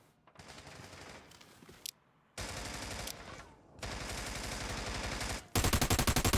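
Video game gunfire sprayed through a wall, loud rapid automatic bursts separated by short silent gaps, ending in a dense, continuous volley.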